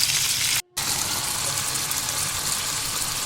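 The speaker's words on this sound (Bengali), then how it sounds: "ফোড়নটা ভাজা হয়ে গেছে আমি কেটে রাখা আলুর টুকরোগুলো দিয়ে দিলাম" Potato pieces frying in hot oil tempered with cumin seeds and bay leaves, giving a steady bright sizzle and hiss with a brief dropout near the start before the frying continues evenly.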